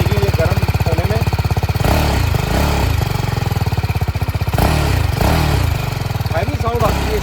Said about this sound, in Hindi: एक बारी मैं रिक्वेस्ट करूंगा कि आप एक बारी ना सभी को एक बारी एग्जॉस्ट जो साउंड है वो एक बारी सुना दो